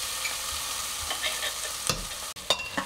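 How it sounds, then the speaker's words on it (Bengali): Onions sizzle steadily in a pan for mutton curry, a continuous close frying hiss with a few brief stirring clicks and scrapes. "পেঁয়াজটা আমি একটু 2 মিনিট ভেজে নেব।"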